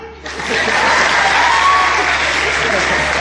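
An audience claps at a live comedy show in Pokhara, with applause swelling quickly from a quiet start into a dense, loud, sustained roar of hands that holds steady.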